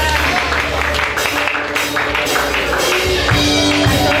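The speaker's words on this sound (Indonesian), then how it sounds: "tepuk tangan." Congregation clapping during a church worship service, a steady dense wash of applause that fills the whole space, loud and continuous with music or voices mixed in beneath.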